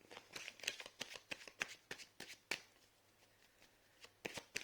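Tarot cards are shuffled by hand for a reading, making quick riffling slaps and flutters in bursts with a short pause in between, close and quiet.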